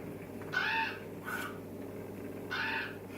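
A crow caws twice outdoors, harsh calls about two seconds apart over a quiet background, with a fainter call in between.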